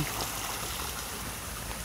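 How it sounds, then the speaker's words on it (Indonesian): Water pours steadily from the lower spout of an ancient stone water installation at a temple, a continuous rushing splash with no pauses and no voices. "Nah, ini pancuran bawah."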